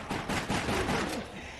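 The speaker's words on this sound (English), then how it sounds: "I'm sure he won't see us or hear all this gunfire." Gunfire in the video game Resident Evil Darkside Chronicles, a dense run of rapid shots rattling steadily for under two seconds, fairly loud, with faint voice traces mixed in.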